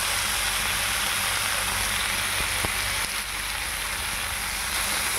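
Soaked rice frying with spices and fish head in a pan, a dense continuous sizzle with a few faint utensil clicks, close and loud, no voices.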